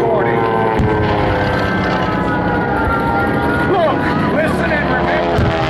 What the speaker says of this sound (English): The Japanese planes attacked relentlessly.